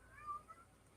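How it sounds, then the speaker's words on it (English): A pet cat gives a single short meow, faint and brief, heard indoors against quiet room noise. "Here goes the cat again."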